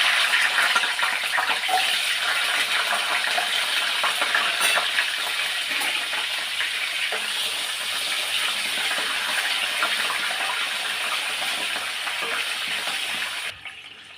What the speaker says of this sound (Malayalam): അതേ എണ്ണയിൽ തന്നെ നമുക്ക് ചെറിയ ഉള്ളിയില്ലേ അത് ഒന്ന് പൊള്ളിച്ചെടുക്കാം